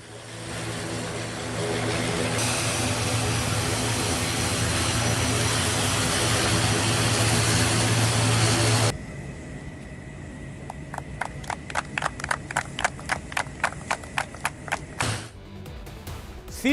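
A C-295 transport aircraft with turboprop engines drones loudly and steadily in flight for several seconds, then gives way to fainter, rhythmic thumping.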